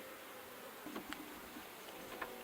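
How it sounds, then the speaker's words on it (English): Honeybees hum softly around an open hive during an inspection, a faint steady buzz with a few brief louder passes of individual bees close by. "So they have a good number of bees."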